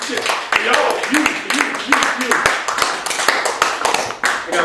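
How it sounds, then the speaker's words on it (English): An audience at a poetry reading in a Chicago café cabaret breaks into dense, close hand clapping that runs continuously, with a few voices and whoops mixed in. "Clap for that."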